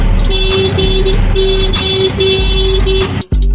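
Jammed road traffic heard from inside an auto rickshaw: a steady low engine rumble under a rapid series of repeated vehicle horn toots, sounding close, ending with a brief dip and then a short burst of noise.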